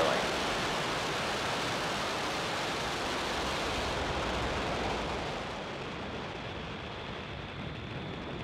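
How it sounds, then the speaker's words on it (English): A SpaceX Falcon 9 rocket lifts off on a Starlink mission with a broad, continuous roar of its engines, heard from a distance as dense rumbling noise that thins slightly toward the end. "Engines full power. And liftoff of Starlink 5-2."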